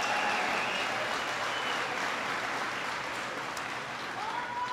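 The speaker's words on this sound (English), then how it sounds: "Give Charlie a big round of applause." An audience at a political rally applauds a congressman, broad sustained clapping from a sizable crowd, even and continuous, with a faint hint of cheering in the background.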